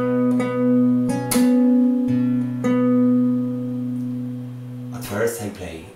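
Fingerstyle acoustic guitar playing a measure of a song, with a few clear plucked notes ringing and sustaining over low held tones, ending in a brief cluster of fingerboard and string noise.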